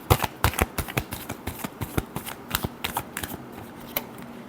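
Tarot cards are shuffled in quick, close riffles, a dense run of sharp papery slaps and flicks that thins slightly toward the end.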